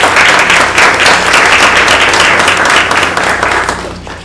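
Loud, sustained applause from a room of attendees at a Marion County school board meeting, dense clapping at an even level throughout that fades slightly at the very end.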